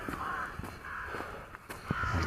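Several harsh bird caws ring out one after another, loud and nearby, with a few short sharp knocks between them, on a late-December morning in Saltivka, Kharkiv.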